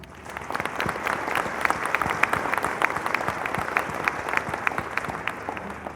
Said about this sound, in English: We want to give everybody another round of applause